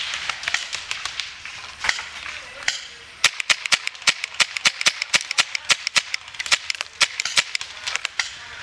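Paintball guns fire in a busy outdoor game, with sharp, rapid pops in uneven bursts and a steady volley of dense shots toward the end, some near and some farther off, while players shout in the background.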